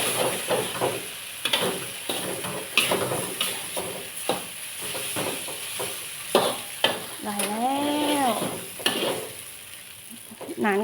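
Glass noodles sizzle and hiss in a hot pan while a spatula scrapes and clacks against it repeatedly; a high whistling tone rises and falls midway.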